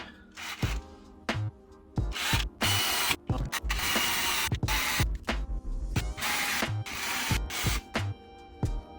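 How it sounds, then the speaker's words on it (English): A power drill whirs in repeated bursts of a few seconds each, separated by short pauses, close and loud, while installing an IKEA Signum cable organizer. "So let's get drilling"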